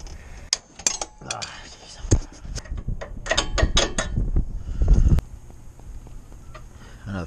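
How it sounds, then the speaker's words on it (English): A worn sway bar link on a truck being worked, giving a series of irregular, close metallic pops, clunks and rattling knocks, some sharp and loud, spread across the whole stretch with brief pauses between bursts. "That's the play that's in this sway bar link. That's what was causing a rattle."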